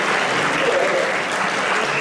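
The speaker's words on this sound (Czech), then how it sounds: "potlesk pro kluky" Steady audience applause at a school Christmas show, a dense, even clapping from a hall full of people lasting throughout.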